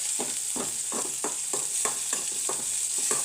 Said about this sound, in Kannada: ಒಂದು ಸ್ವಲ್ಪ ಫ್ರೈ ಆಗಲಿ, ಅರಿಶಿನ ಪುಡಿ ಹಾಕಲ್ಲ ಅದಕ್ಕೆ.